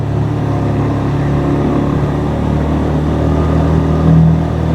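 A motorcycle engine hums steadily up close, a low droning idle with a brief rise in revs near the end.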